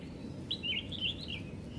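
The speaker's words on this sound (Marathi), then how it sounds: "इकडे खाली जो आवाज येतोय पक्षीचा" A small bird sings a quick, sweet run of chirps and warbles lasting about a second, coming from somewhere below the listener, fairly clear against a quiet outdoor background.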